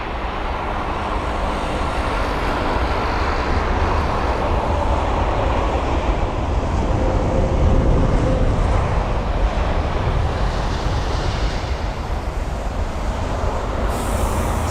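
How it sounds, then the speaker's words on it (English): British Airways Boeing 777-200ER landing at Heathrow, a loud sustained broadband engine roar with rushing air that swells slightly near the middle and holds steady throughout. "And so there's the British Airways 777"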